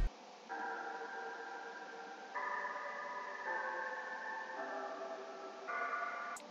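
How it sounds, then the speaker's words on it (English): A bell-like synth pad from the Xenology Ice Hall preset in FL Studio plays sustained chords that shift every second or so, bright and shimmering over a soft airy bed, alone. "I added another pad that sounds almost like a bell."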